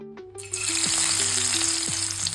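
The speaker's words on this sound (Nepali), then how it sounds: "एउटा कराईमा तेल राखेर म प्याज फुर्याउँदै छु।" Onions fry in oil in a wok with a loud, continuous hiss that starts after a brief moment and holds steady, with tonal music playing underneath.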